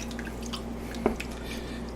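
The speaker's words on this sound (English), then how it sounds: "You let it drip dry as much as you can." Paper pulp drips from a nylon-and-wire screen in a quiet setting during paper recycling, giving one small wet drop and a few faint trickles over a low steady hum.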